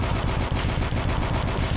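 Rapid gunfire in the retro shooter Dusk, a dense rattling burst of fast repeated shots that continues loud and close without pause, with no talking over it.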